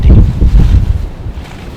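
Strong wind buffets the microphone in an open field during a spring turkey hunt, heavy low rumbling gusts that swell and ease over a couple of seconds, with no talking.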